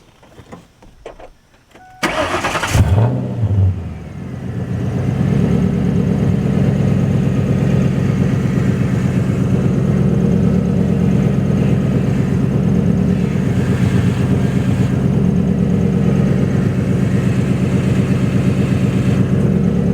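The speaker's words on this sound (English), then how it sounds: "now I'm gonna show you guys what it looks like once we fire it up and turn full lock" A Ford Mustang engine cranks and catches after a couple of seconds of quiet clicks, then settles into a loud, steady idle rumble that continues close by for the rest of the stretch.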